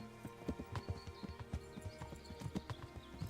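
Horses walking in the video game The First Berserker, hooves clip-clopping in an uneven, steady rhythm of sharp close knocks, with a brief whinny mixed in.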